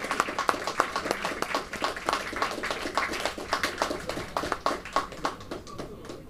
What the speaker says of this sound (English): another round of applause to our women's Pentamine champion